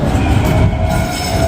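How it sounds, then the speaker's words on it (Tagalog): A train rolls past at close range, a loud continuous rumble of rail cars with steady rattling wheels that stays strong throughout. "Tignan niyo yung tren nila oh."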